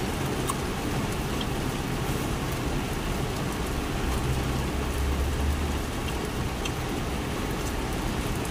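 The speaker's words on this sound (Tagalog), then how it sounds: "Malakas na yung ulan mga kaibigan." Heavy rain pours steadily for the whole stretch as a dense, even hiss with scattered drop impacts and no pauses, during an outdoor lunch break.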